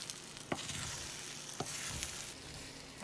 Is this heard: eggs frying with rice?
yes